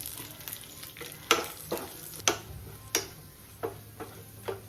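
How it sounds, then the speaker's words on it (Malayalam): Ginger, garlic, green chilies and curry leaves fry in hot oil with a steady low sizzle, broken by several sharp utensil scrapes and taps as they are stirred, close by and with no talking. "കുറച്ച് ഇഞ്ചി ഇട്ട് കൊടുക്കാം ഈ എണ്ണയിൽ തന്നെ"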